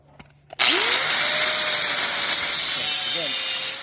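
A corded hand grinder bites into metal and cuts steadily, throwing sparks. The loud, continuous whine holds for several seconds after a brief quiet start, with a slight dip in pitch as the cut loads up near the end.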